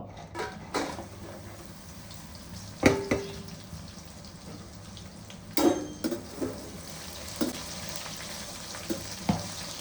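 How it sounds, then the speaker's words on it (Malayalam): Steady hiss of dried chillies frying in sesame oil runs throughout, with occasional clinks and scrapes of utensils against a pan, close by and fairly quiet. "നമുക്ക് മുളക് വറുത്ത് പോരാം കേട്ടോ"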